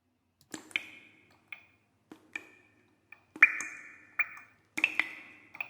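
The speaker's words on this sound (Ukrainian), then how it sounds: "капає крапелька води з даху." Water drops fall one after another from a roof at an uneven pace, each landing with a short, bright ping. The drips grow a little louder and quicker toward the end.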